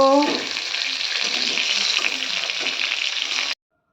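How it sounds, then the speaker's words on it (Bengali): Pointed gourd (potol) fries in a pan over a medium-high gas flame with occasional stirring, giving a loud, steady sizzle that holds for about three and a half seconds and then cuts off abruptly. "এবার গ্যাসের ফ্লেম মিডিয়াম টু হাইতে রেখে আমি পটলগুলোকে একটু নেড়ে নেড়ে ঢেকে ঢেকে ভেজে নেব"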